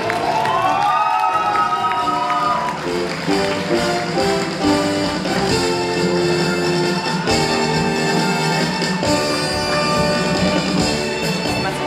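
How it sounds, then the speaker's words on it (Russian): An audience in a hall applauds and cheers at a university gala concert, a dense, sustained crowd clatter running through the whole stretch beneath music. "Под аплодисменты зала."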